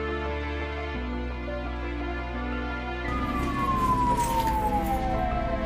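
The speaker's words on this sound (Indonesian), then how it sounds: "ternyata adalah suara mobil polisi" A police car siren in a zombie horror video game wails with sustained tones that shift partway through into a falling sweep, loud and steady over a droning background.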